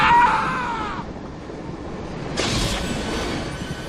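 A train runs along railway tracks with a brief metallic wheel squeal at the start, then a steady rolling rumble and a second rushing swell near the end, moderately loud.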